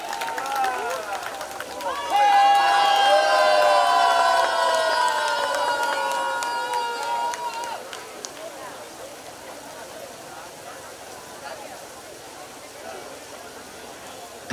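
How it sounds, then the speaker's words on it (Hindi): A crowd cheers and claps to welcome the constituency MLA at a large Mumbai clean-up drive event, with a loud surge of cheering and whistle-like tones partway through that then fades into background babble. "जोरदार तालियों से स्वागत कीजिए."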